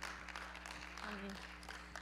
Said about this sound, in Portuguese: vamos dar uma salva de palmas ao Senhor pela vida dessa mulher